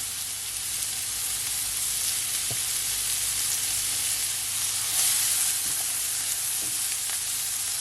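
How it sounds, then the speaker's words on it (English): Crushed garlic and onion sizzle steadily in melted butter in a pan, a soft, even frying hiss with a few faint clicks of stirring, no voices over it. "Just gonna allow your onion to saute"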